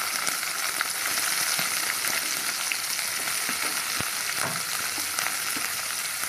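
Chopped capsicum fries in hot oil in a pan for a chilli soyabean dish, a steady close sizzle with occasional crackles and stirring scrapes.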